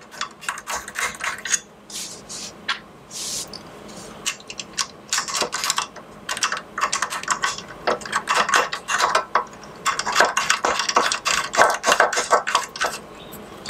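Screws being roughly tightened into a threaded part on both sides of a round mounting plate for a hydraulic arm, a busy run of close, rapid ratcheting clicks and metallic rattles in uneven bursts with no talking.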